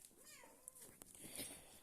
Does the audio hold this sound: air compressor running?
no